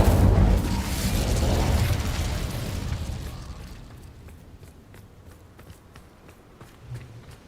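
Incendio fire spell cast in Hogwarts Legacy, a loud burst of roaring flame and boom at the start that decays into a low rumble, followed by faint light footsteps and small crackles.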